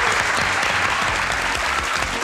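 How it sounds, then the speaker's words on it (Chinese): A studio audience at a Taiwanese variety show claps loudly and steadily, a dense, continuous burst of applause filling the short moment. "来给自己掌声鼓励一下啊"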